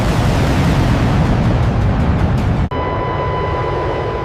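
A fighter jet's afterburner kicks in during a flight video game: a loud, dense, continuous roar that cuts off abruptly near the end, leaving a quieter steady hum with a thin whine.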